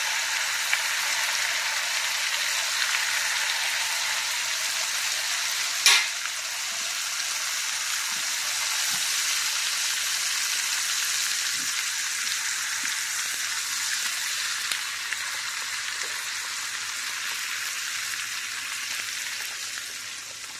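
Apple pies frying in melted fat, a steady bright sizzle and crackle that continues evenly for about twenty seconds, with one sharper pop partway through and occasional faint clicks.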